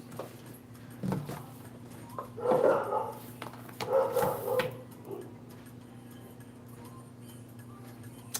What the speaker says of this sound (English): the dog would have kept barking if I didn't get it right